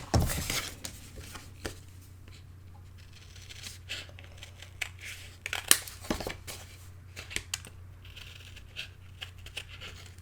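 Scissors trim extra tape off a paper belly band on a mini album, making soft, close snips and crinkles at an uneven pace, with light paper handling noise and no talk.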